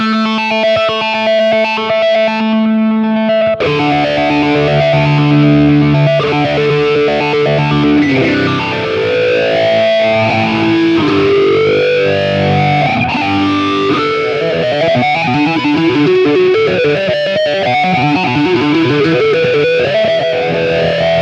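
Electric guitar played through a chain of BOSS effects pedals, an SY-1 synth, a PH-3 phaser and a Tera Echo, sustaining loud, dense, distorted, swirling tones with shifting pitch sweeps and no talking.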